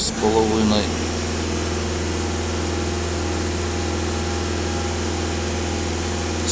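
A Skoda A7 2.0 TDI diesel with 260,000 km, its DPF and EGR under cleaning, holds a steady raised idle near 2500 rpm, a constant low drone after a brief shift in pitch at the start, with no speech.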